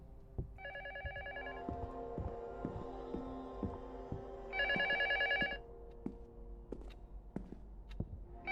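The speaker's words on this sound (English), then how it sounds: "The phone keeps ringing." A telephone rings in a horror video game, two bursts of electronic trilling ring over a low throbbing hum and scattered soft thuds like footsteps.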